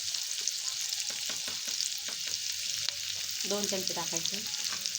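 A ginger, garlic, coconut and coriander paste sizzles and fries steadily in a pan, with a spoon stirring and scraping under a brief spoken instruction.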